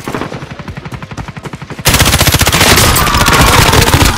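Rapid automatic gunfire in Call of Duty: Warzone, a fast regular stream of shots that grows sharply louder and denser midway, close and loud with no talking.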